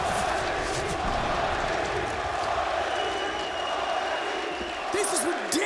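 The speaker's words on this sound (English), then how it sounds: "A rousing chant from the crowd, and why not?" A large arena crowd chants loudly and continuously at a CS:GO esports match at IEM Katowice, a dense sustained roar with a few sharper shouts near the end.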